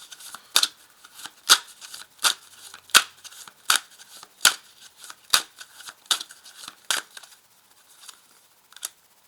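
Tarot cards are shuffled and laid out in a steady series of crisp snapping flicks, about one per second, close and fairly loud, with quiet gaps between and no talking.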